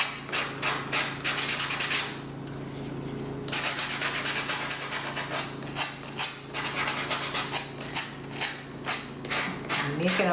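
Steady rhythmic sanding strokes rub against a wall art piece up close, a loud rasping scrape repeating in bursts with a brief pause partway through.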